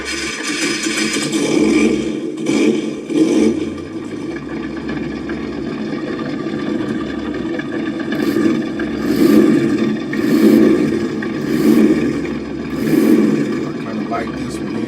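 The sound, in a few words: RC4WD Chevrolet K5 Blazer ESS Dual sound module engine sound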